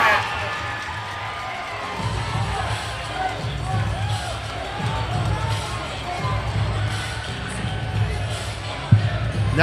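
A crowd at an arena football game, the West Michigan Ironmen against the Battle Creek Smoke, keeps up a steady roar and swells louder in waves, with a broadcast commentator talking over it.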